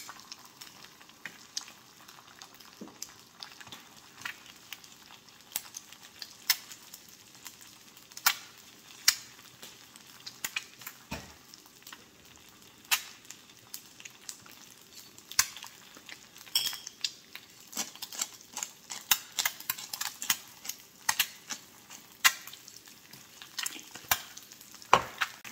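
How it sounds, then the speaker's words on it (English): An egg frying in a small camping frying pan, a faint continuous sizzle under frequent light clicks and scrapes of a utensil against the metal, close and without speech. "I'm gonna go ahead and crack an egg and give it a shot."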